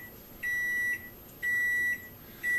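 A kitchen timer beeps three times in even, evenly spaced pulses, each about half a second long. It sounds clear and close, with no talking.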